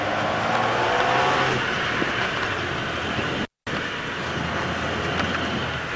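A safari vehicle races along a dirt road, its engine a loud, steady drone under heavy rumble and wind noise, with a brief cut to silence partway through before the same drive resumes.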